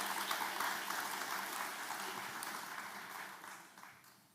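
Audience at an opening plenary of a forum gives a broad round of applause, a dense hissing wash of clapping that gradually fades toward the end.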